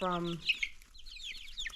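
Young Rhode Island Red and Barred Rock chickens make a close, drawn-out call followed by quick high chirps and clucks, with a faint voice beneath.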